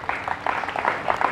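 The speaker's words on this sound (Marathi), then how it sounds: "टाळ्या नकोत." Audience applause breaks out during a speech at a Sakal Hindu Sammelan gathering in Subhash Nagar, Pune: a steady, moderately loud patter of many hands clapping together, lasting just over a second.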